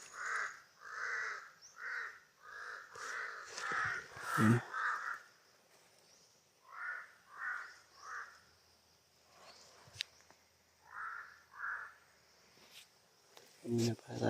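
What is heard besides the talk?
crows cawing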